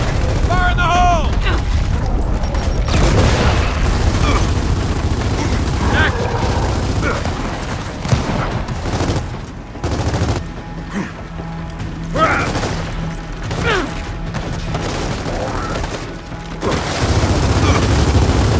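Gears of War 4 combat booms with grenade explosions and bursts of gunfire in a loud, continuous fusillade, while players shout and talk over the action.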